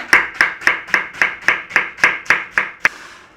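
Cabbage chopped for a Scottish potato, cabbage, onion and cheese pie: ten crisp, evenly spaced chops in a steady rhythm, close and loud, with no talking.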